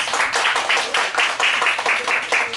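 Dense, steady applause from an audience at a mini live concert for a singer's new-song release event, with many hands clapping continuously and fairly close throughout.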